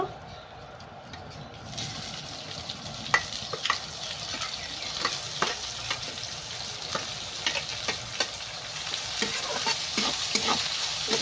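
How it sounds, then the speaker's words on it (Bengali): Onions fry in oil with bay leaf and dried chilli, starting quiet and then breaking into a close, steady sizzle marked by repeated clinks and scrapes of stirring. "ভালো করে ভেজে নেবো।"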